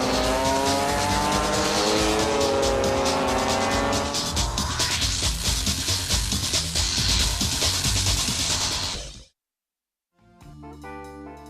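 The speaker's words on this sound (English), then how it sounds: "This week we're taking a look at a pretty unheard of sport, scooter racing." Racing scooters scream past on a track with high, buzzing engine whines rising and falling, then the roar cuts off abruptly and music begins after a brief silence.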